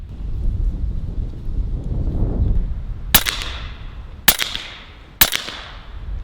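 A Western Sidewinder S .30 caliber air rifle fires pellets in three sharp, loud shots spaced about a second apart. The shots cut through a steady rush of outdoor wind noise.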